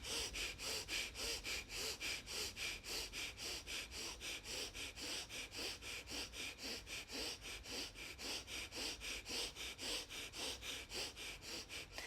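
Steady, close rhythmic breathing during a workout, quick inhales and exhales repeating about three times a second without pause, alone and fairly faint.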